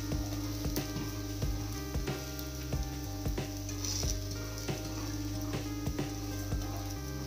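A wheat flour snack cooks in a pan over a low flame, giving a steady close sizzle and frying crackle with occasional soft stirring and pressing taps, and no talking.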